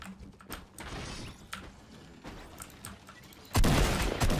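Shotgun fire in the Fortnite battle royale game on mobile, with sharp broadband gunshot bursts scattered through the clip and a louder, sustained blast near the end.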